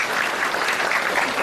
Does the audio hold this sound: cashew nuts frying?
no